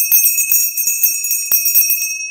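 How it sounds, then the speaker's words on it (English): Handheld bells rung at a live auction of items like paperweights, baskets and vintage jewelry, bright sustained tones with quick repeated strikes in an irregular rhythm, loud and close. "You got to do three bells all, all right. at the same time."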